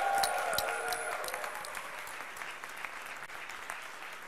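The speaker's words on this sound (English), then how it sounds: "give them, exhausted as they are, a big and warm applause" An audience at an innovation slam applauds the contestants. The clapping is fairly soft and distant, with a few whistles at the start, and it gradually thins as it goes on.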